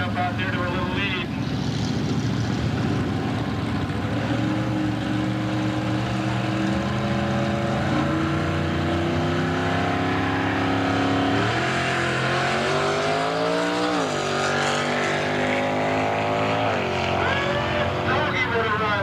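Drag racing cars launch down the strip at the 1997 Wildhorse Gambler's Choice Classic, engines roaring loud and continuous with rising, shifting pitch sweeps as they accelerate, while an announcer talks over the racket throughout.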